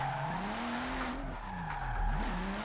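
Car drifting with the handbrake in a racing video game, steady engine drone with wavering pitch and faint tire skid noise running throughout.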